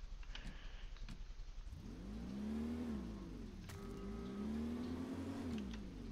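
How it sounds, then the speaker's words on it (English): A car driving in the Brick Rigs video game, its engine rising and falling in two revving sweeps with a whirring tone, fairly quiet and alone. "I'm gonna go park my car at the train station."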